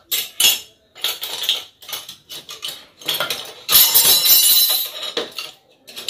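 A fork and other cutlery clink and clatter against dishes in a home kitchen, loud bright metallic knocks coming in irregular bursts with short gaps between them, ending in a longer busy stretch of rattling.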